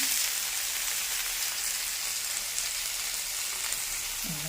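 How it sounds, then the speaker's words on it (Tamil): A small tomato sautés in a pan of tempered spices, giving a loud, steady close-up sizzle that crackles continuously with no talk. "ஒரே ஒரு சின்ன தக்காளி இதில் போட்டு நான் வதக்கிக்கிறேன்"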